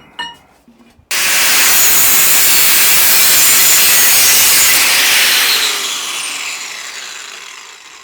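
A motorcycle expansion-chamber exhaust pipe being cut through, a loud harsh continuous rasp starting abruptly after a brief quiet moment and easing slightly near the end.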